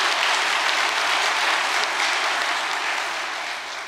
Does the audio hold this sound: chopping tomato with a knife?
no